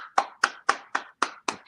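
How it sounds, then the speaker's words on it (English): A clapping sound effect played on a podcast panel show: six crisp, evenly spaced hand claps about a quarter second apart, close and clear with no talking over them. "That's virtual clapping."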